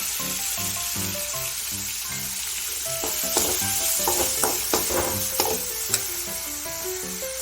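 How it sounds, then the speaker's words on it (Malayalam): Chopped tomato and curry leaves sautéing in a pan, with a steady sizzle and frying crackle, plus repeated stirring scrapes and a few sharp clicks of a spatula against the pan. "ചെറുതായിട്ട് അരിഞ്ഞത്, തക്കാളി അരിഞ്ഞത്, കുറച്ച് കറിവേപ്പില, ഇത് ഇത്രയും ഇട്ട് നന്നായിട്ട് വഴറ്റിയെടുക്കാൻ പോവുകയാണേ"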